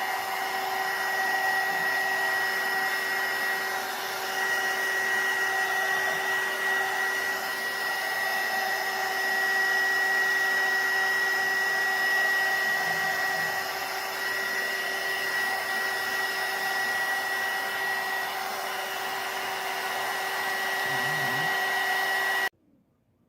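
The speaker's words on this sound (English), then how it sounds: "You saw that I used the heat dryer, the air dryer." Heat tool for crafts blowing air to dry paint on a scarecrow craft, a steady, constant whirring hum with a high whine that holds evenly for over twenty seconds before cutting off.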